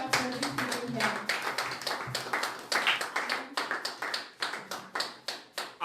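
A church congregation claps in steady rhythmic unison to acclaim the Lord, loud sharp handclaps repeating throughout, with voices calling out underneath.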